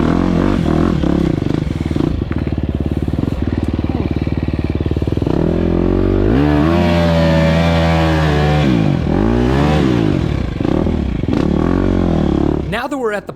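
A dirt bike engine labors up a slimy enduro hill climb, loud and close, revving hard and bogging with rising and falling pitch as it struggles for traction.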